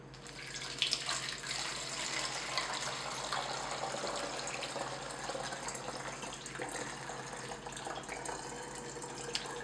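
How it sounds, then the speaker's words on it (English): Hot water, about 750 milliliters, poured from a beaker in a darkroom setting while mixing powder developer: a steady, continuous splashing pour running at even loudness for the whole stretch, with no talking. "So I'm going to pour this off."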